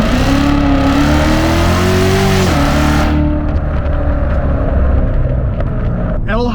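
Chevrolet Corvette C7 Z06 accelerating hard, its loud, close engine roar climbing in pitch, dropping at a gear change, then pulling hard again at full volume.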